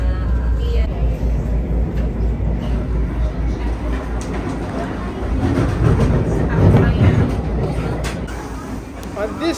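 A Brightline passenger train on its first run to Orlando gives a steady, loud rumble and rail clatter from on board, with voices murmuring through the cabin noise.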